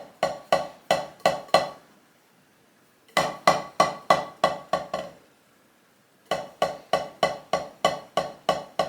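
A wooden drumstick bounces repeatedly in a loosely held hand, making crisp, evenly spaced clicking taps in three bursts of about five to eight strikes each, separated by short pauses, close and with no voices.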